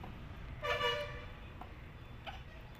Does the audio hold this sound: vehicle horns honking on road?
yes